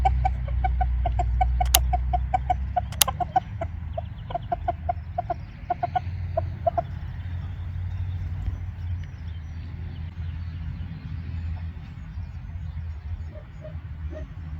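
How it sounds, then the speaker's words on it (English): A rooster makes a rapid series of soft, quick clucks on finding treats, fairly close, over a steady background hum, then the clucking trails off. "He starts doing a little cluck sound whenever he finds some treats"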